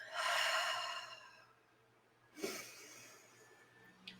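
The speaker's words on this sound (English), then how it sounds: "take a deep breath" A slow, deep breath drawn in and let out during a guided meditation, a soft airy rush that swells and fades, followed by a quieter second breath, close and alone with no talk.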